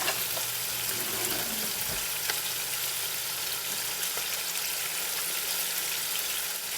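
Fries frying in a well-filled pan give off a steady, dense sizzle that holds evenly throughout, with a few faint clinks and no talking.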